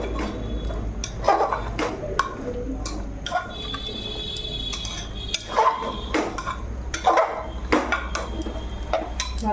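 A spoon stirs goat fat curry with bottle gourd in a pressure cooker, giving irregular metallic clinks and scrapes against the pot, some sharp and close, over a low background hum.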